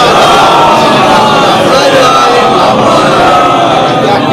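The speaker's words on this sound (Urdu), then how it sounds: "نعرے صلوات." A large crowd at a Shia religious gathering chants a salawat slogan in unison, a loud, dense roar of many voices that fills the whole clip without letting up.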